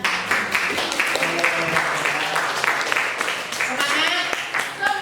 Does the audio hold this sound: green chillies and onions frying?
no